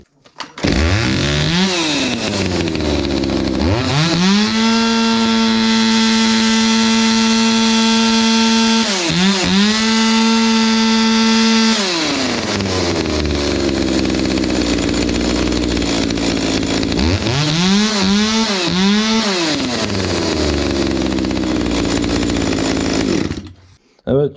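An old chainsaw, left unused for years, is started after adding oil to a half-full tank; its small two-stroke engine catches and runs with a loud buzzing drone, revs rising and falling, briefly dipping twice before revving up again.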